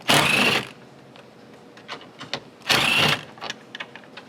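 A power tool zips out two 10mm bolts on a 2022 Subaru WRX during taillight removal, two short loud whirring bursts separated by quieter clicking and handling noises.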